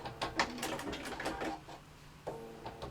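A sewing machine back stitches through fabric in short rapid bursts of rattling needle clatter, close and fairly loud, with a brief pause and a restart near the end.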